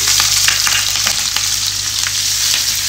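Steady, loud crackling sizzle of spices and green chilies frying in hot oil as a tempering for daal, with a few faint stirring clicks and no talking.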